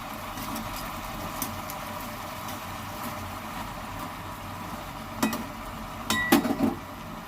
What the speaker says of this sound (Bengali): আমি একটু নেড়ে চেড়ে দেবো সাইড থেকে, ওই শাকগুলো উপরে একটু জড়ে যাওয়ার জন্য